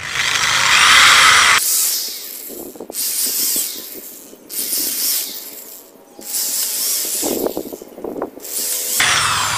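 A power drill whirs loudly in several bursts of a second or two each, broken by short pauses, with a close, grinding mechanical edge.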